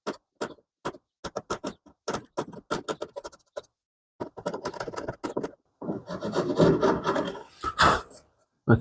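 A sharp chisel pares away wood on a dovetail joint in an oud neck, making a series of short scraping strokes that build into a longer, denser rasping run toward the end, close and clear with no voices.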